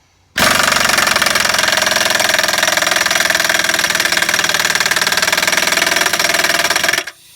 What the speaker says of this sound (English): I just want to make sure I give the air compressor a little bit of time to air up